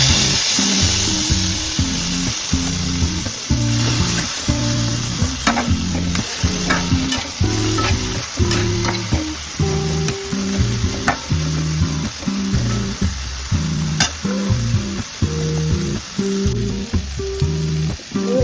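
Chopped tomato is stirred into onions frying in a pan for Maharashtrian harbhara bhaji, a loud, continuous sizzle broken by rhythmic scraping strokes of a spatula, with no talking.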